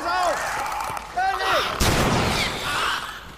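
Shotgun blast in The Last of Us Remastered, one heavy boom landing midway through, with someone talking and game sounds before and after it.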